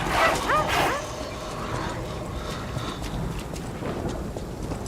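A dog barks a few times in the game Lies of P, loud and close at the start, then fading under a busy background of footsteps and ambience.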